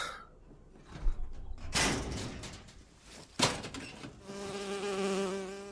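Buzzing flying insect in the BioShock Infinite video game, a steady harmonic drone rising toward the end after a few thuds and bursts of game noise, fairly close and alone without speech.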